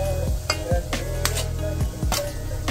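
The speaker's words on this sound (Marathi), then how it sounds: "बटर टाकते। आता त्याच्यानंतर टॅमॅटो टाकायचे आपल्याला।" Tomatoes sizzle in butter in a pot for an onion-tomato gravy. A steady frying hiss runs under several clinks of a spoon against the pot as the mixture is stirred.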